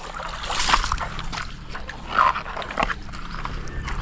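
A dog barks and whimpers at a dog cemetery, with a few short yelps at moderate distance amid outdoor background noise and light splashing.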